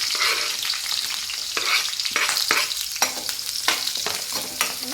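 Curry leaves, green chillies and onion fry for vermicelli upma in hot oil, with a bright crackling sizzle broken by frequent scraping stirs of a spoon against the pan, close and fairly loud.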